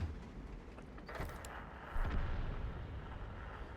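A deep, booming tank cannon blast from the T30 in World of Tanks, followed by a rumbling echo, with an earlier muffled thump; loud and low, no speech.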